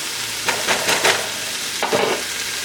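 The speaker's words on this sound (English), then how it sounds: "You want to add the white part of the green onions right now in the stir fry" Vegan beef and broccoli stir fry with the white parts of green onions hissing loudly in a hot pan, a constant sizzle punctuated by several bursts of tossing and stirring.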